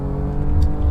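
BMW M3 engine in the Assetto Corsa racing game, a steady close engine drone with a rising rev, heard alone for about a second.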